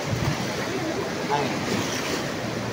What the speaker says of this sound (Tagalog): Pakalakas yan bro, yung current ng tubig na.